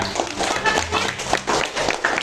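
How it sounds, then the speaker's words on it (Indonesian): A school class claps for a presenting group, a short burst of scattered, uneven hand claps from a modest number of students in a room, with faint voices underneath. "Oke, beri tepuk tangan dulu lah."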